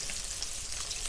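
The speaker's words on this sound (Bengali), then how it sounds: "মাছগুলো ওদিকে ভাজা হোক" Fish frying in a pan in a home kitchen, giving a steady, loud sizzle that fills the whole clip with no voices.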